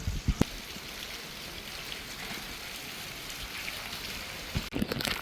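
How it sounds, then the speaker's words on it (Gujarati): Steady rain falls outside a market shop during a pilgrimage walk, an even wash of patter with a few louder knocks near the start and end, no voices. "આટલામાં વરસાદ ચાલુ થઈ ગયો છે"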